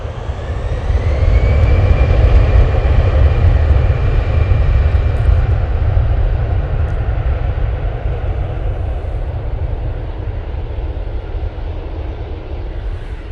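An EasyJet jet airliner at Manchester Airport begins its takeoff roll with a loud, steady engine roar that swells early and holds, a thin rising whine over a deep rumble, heard alone with no talk.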